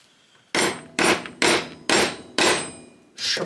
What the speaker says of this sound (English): Smack of the hammer.